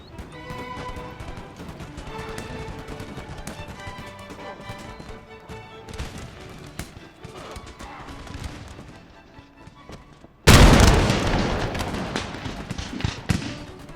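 A sudden loud musket volley in Empire: Total War crashes out near the end as one massed burst with a ragged decaying tail, following a stretch of quieter battlefield clatter, scattered shots and horse noise.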